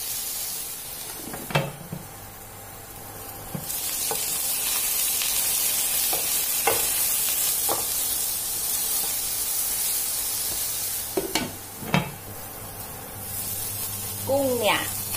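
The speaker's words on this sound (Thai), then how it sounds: "ให้ใส่กุ้งลงไปเลยค่ะ แล้วเราก็จะปิดฝานะคะอบให้กุ้งสุกก่อนค่ะ" Shrimp cook in fresh butter in a covered pan with a steady sizzling hiss throughout, broken by occasional clinks and knocks of utensils, with someone speaking intermittently over it.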